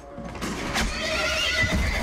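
In the video game The Last of Us, a horse gives a strained whinny amid a busy, noisy combat scene, the cry sitting moderately loud against a steady wash of background sound.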